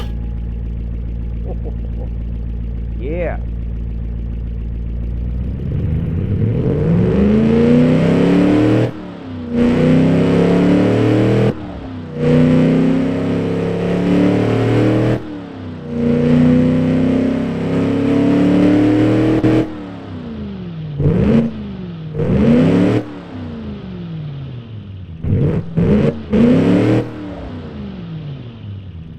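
Chrysler LA 318 V8 with new headers, muffler and exhaust: starts at idle, then a series of hard revs in bursts with sharp drops between, growing short and punchy near the end, loud and close.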